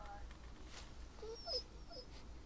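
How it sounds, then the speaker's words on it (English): A dog in The Walking Dead Season 2 video game whimpers softly, giving a few faint, brief whines against a quiet background. "That's a cute dog."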